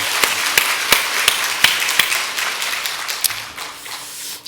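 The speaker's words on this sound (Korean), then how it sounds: "박수 한번 해드려요." A church congregation at a Christmas Sunday service gives the choir a sparse round of applause: a series of sharp, separate claps that thin out and fade after a few seconds.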